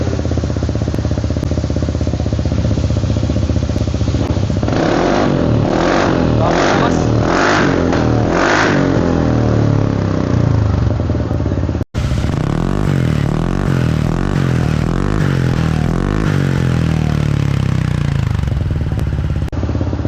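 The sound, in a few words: Kymco KRV180 motorcycle revving with titanium VMAX full exhaust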